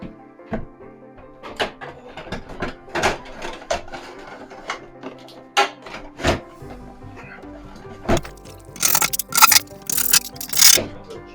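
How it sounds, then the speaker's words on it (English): Screws are driven to fix a bathroom exhaust fan in place, heard as a series of short scraping, buzzing bursts from a screwdriver with brief knocks and rattles between them. The bursts run close and moderately loud and grow denser and louder toward the end. "I'm gonna use 4 screws, and I'm gonna screw that in place"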